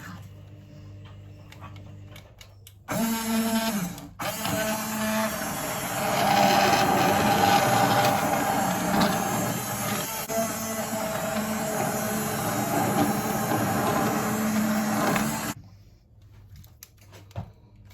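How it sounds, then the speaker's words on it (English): A cordless blender blitzes leek soup with a loud, steady whirring roar that kicks in abruptly, runs for about twelve seconds with slight shifts in tone, then cuts off sharply. "I'll blitz it up. I've charged up my blender, so I'll get it blitzed"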